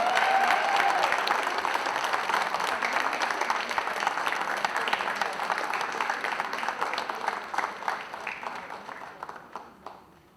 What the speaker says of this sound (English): A big round of applause for all of them, guys.